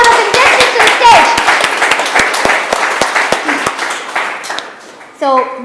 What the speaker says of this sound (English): give a big applause and welcome all of our contestants to the stage